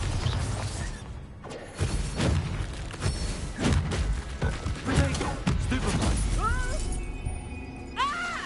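Hogwarts Legacy Bombarda spell blasts in a spider-filled chamber: a series of loud booming impacts and crashing bursts with magical whooshes, rapid and dense, ending in rising tonal sweeps.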